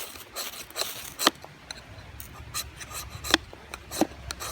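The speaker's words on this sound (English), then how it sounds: "I have to scrape the coating off." Scraping the coating off a ferro rod with a blade, heard as a run of short, dry rasping strokes at close range, several sharper scrapes standing out against a quiet background, with no talking.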